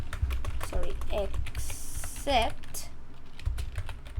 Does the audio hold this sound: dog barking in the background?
no